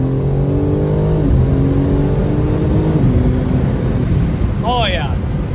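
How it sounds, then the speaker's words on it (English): A BMW G82 M4 Competition fitted with a new carbon bumper pulls hard, its engine a loud, steady droning roar with strong harmonics throughout, and a brief chirp rising near the end. "let's go ahead and get a nice little pull in for the first time with this bumper"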